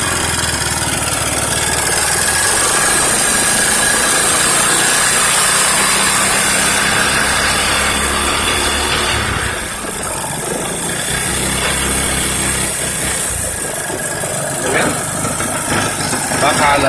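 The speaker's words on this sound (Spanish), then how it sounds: "Escuchen el motor." Honda Beat 100cc scooter engine with an AT110 carburetor, revved at full throttle yet lacking power; a steady, buzzing high-pitched drone that holds close and loud throughout, with faint background noise.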